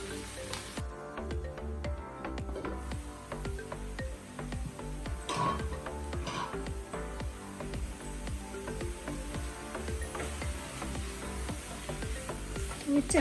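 Data shak greens frying and being stirred in a pan, a steady crackling sizzle with spatula scrapes and knocks throughout, fairly quiet and close, without any talk.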